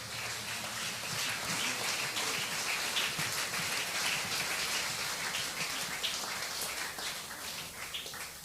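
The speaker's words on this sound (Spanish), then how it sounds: "Un aplauso al Señor en esta noche," A church congregation applauding: dense, continuous clapping from many hands, steady and even throughout, moderately loud with no voices standing out.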